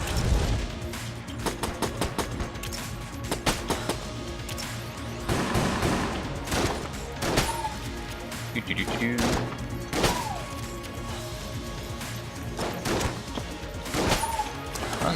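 Enemy gunfire and impacts in the video game Enter the Gungeon, a dense, busy clatter of shots, thuds and crashes over game music, with a voice talking throughout.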